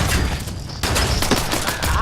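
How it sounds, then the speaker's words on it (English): Rapid gunshots ring out in the online game Fallout 76, a loud burst of fire that continues through two seconds while players talk over it. "Who's shooting me?"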